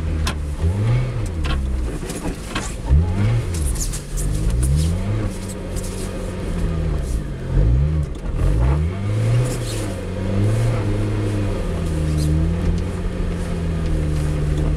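A Lotus Exige sports car drives on snow, its engine rising and falling in repeated revving sweeps as it accelerates and lifts off through turns, loud and continuous throughout.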